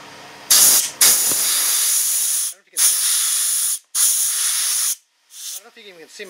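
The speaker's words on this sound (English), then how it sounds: "I hit it with a compressor" Several loud, close bursts of compressed air from a compressor nozzle hiss sharply while cleaning out a 3D printer linear rail bearing, separated by brief pauses, followed by softer sputtering.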